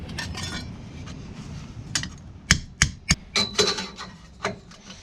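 A hammer taps a metal roll cage door bar tube on a BMW E36 several times in an uneven series of sharp, ringing knocks, close by, with faint clinking between strikes.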